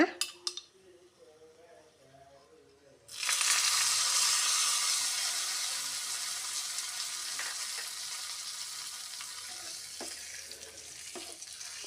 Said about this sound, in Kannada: ಒಗ್ಗರಣೆಯನ್ನು ಹಾಕೋಣ